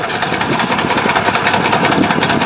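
T-25 tractor engine running steadily during potato digging in a village, close and loud, a continuous rough diesel chug with faint rhythmic pulsing throughout and no voices.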